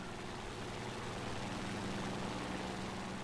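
Steady droning propeller engine of a Mitsubishi F1M2 floatplane biplane with three floats in War Thunder, a constant low, even hum while climbing, faint and unbroken.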